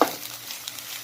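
Eggplant pieces sizzle in a small amount of hot oil for seasoned dakous, with a brief clatter at the start followed by a soft, steady hiss broken by light stirring taps.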